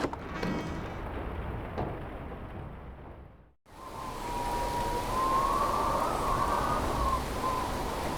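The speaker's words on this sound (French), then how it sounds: "La tempête se déchaîne dans la vallée." A broad, rumbling storm roar in the video game The Lion's Song swells after a brief quiet dip, joined by a wavering high whine over the constant wash of wind and rain in a valley.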